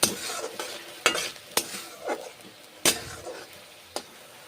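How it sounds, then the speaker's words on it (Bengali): A spoon scrapes and stirs spice paste frying for a papaya dish, with soft sizzling under a few sharp, irregular strokes against the pan. "মশলা বেশ ভালো করে কষে নিচ্ছি"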